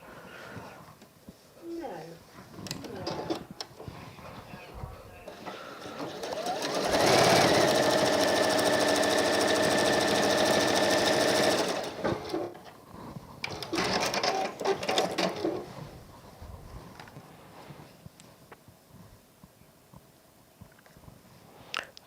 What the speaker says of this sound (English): So we're going to sew those onto the top and the bottom.